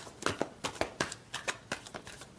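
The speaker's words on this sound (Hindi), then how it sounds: "last shuffle" Tarot cards are shuffled by hand in a quick series of soft riffling snaps, close and fairly quiet, about ten short bursts over a couple of seconds.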